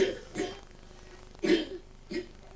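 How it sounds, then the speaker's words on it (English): A child coughs three times in short, separate bursts indoors, the first two softer and the last two louder and closer, with faint room noise between. "Who is coughing among children?"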